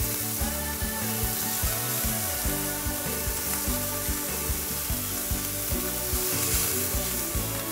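Steady, loud sizzling of shrimp searing in a hot pan, continuous crackling throughout with no talking.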